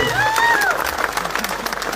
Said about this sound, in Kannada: ಶಶಿಕಾಂತ್ ಗುರೂಜಿ ಅವರು ಕೂಡ ಜೋರಾಗಿ ಚಪ್ಪಾಳೆ